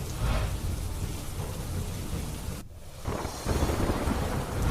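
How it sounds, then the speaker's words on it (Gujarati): Steady heavy rain in Ahmedabad hisses throughout with a low thunder rumble, a brief near-silent gap in the middle, then the downpour returns louder. "અમદાવાદમાં સવારથી વરસાદી માહોલ છે"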